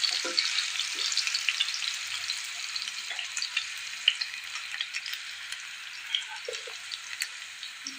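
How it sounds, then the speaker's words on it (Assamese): Potato pieces fry in a pan of hot oil, a dense, steady sizzling hiss with scattered pops and spatters, heard close up with no talking. "আলুখিনি মই অলপ ভাজি লওঁ।"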